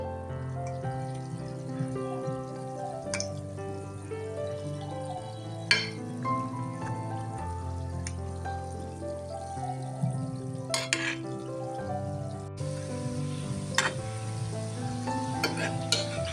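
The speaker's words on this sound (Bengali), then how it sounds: "এখানে হচ্ছে আমি মিষ্টিগুলো ভেজে নিচ্ছি" Kalojam sweets made from puffed rice and powdered milk frying in hot oil, a continuous close sizzle with occasional stirring clatter, and no talk.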